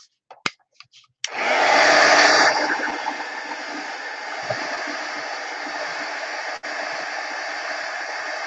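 A hair dryer blows steadily on painted yarn craft work, a loud sustained whoosh that starts abruptly after a few small handling taps, then settles to a slightly lower, continuous airflow with one brief dip.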